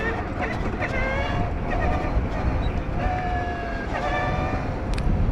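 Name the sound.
Matter Aera 5000+ electric motorcycle accelerating in first gear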